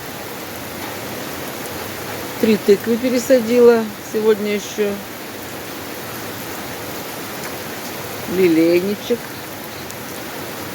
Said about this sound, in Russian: Ой, какой дождь.